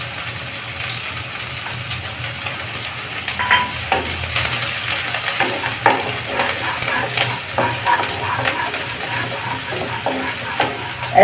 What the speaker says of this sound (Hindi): ऐसे चला चला के अच्छे से फ्राई करें ताकि अच्छा से गोल्डन कलर का हो जाए प्याज हमारा